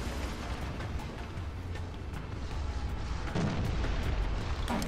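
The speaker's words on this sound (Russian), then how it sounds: "Уже сюда арта закидывают." Artillery shells landing in War Thunder, a dense rumble of distant booms and low explosions rolling continuously, growing heavier toward the end, with no talk over it.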